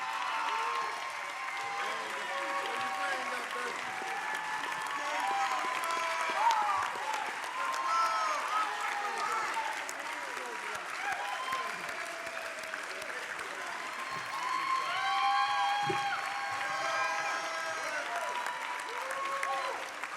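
A large audience at the 2024 Mid-Atlantic Emmy Awards ceremony gives sustained applause, a dense steady roll of clapping that swells slightly in the middle and holds for the full twenty seconds.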